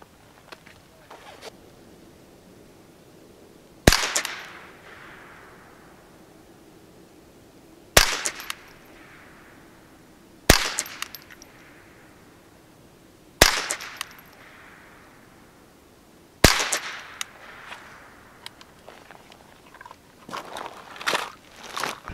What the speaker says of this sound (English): We're gonna try a shot here at 50 meters.